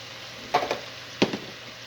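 Raw cabbage chunks dropped into a soup pot, two soft bumpy thuds about half a second apart, then a second pair a moment later, close by against a quiet background with no talking.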